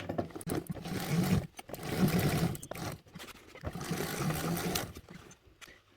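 A sewing machine stitches fabric in a few sustained bursts, a close whirring motor hum that runs, pauses briefly and starts again.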